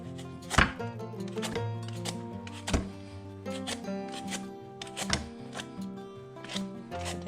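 Knife slicing through pumpkin on a cutting board, a series of sharp chopping knocks at irregular intervals, close and fairly quiet.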